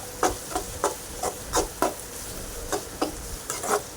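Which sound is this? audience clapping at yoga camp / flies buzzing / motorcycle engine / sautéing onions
sautéing onions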